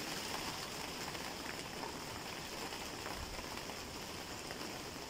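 Light rain falls steadily over a vegetable garden of tomato plants in the Kaluga region, a soft, even hiss of drops with no voices.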